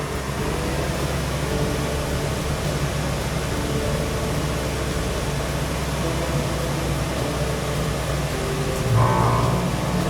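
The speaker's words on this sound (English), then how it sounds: "Compressor kicked on, or the fan kicked on." A motorhome air conditioner runs with a steady, loud, broadband whoosh of fan and compressor, unbroken throughout with a slight surge near the end.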